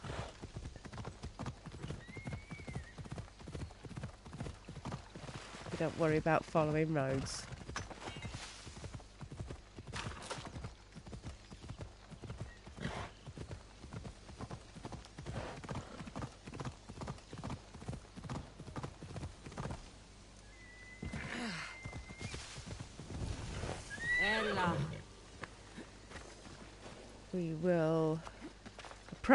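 Steady clip-clop of hooves from a horse moving at a quick, rhythmic pace in Assassin's Creed Odyssey, with someone talking over it and occasional whinnies.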